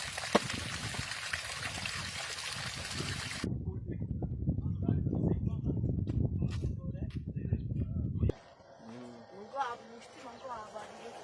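Water gushing from the delivery pipe of a solar submersible pump drawing from 250 feet deep, a loud continuous rushing and splashing that stops abruptly. People talk over it and keep talking after it ends.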